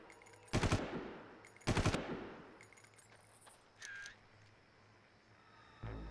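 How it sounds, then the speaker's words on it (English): Video game gunfire in Far Cry comes as two short, sharp bursts of automatic shots, with quieter clinks, a brief tone and a final thud, set against near silence. "Normal shooting, dude."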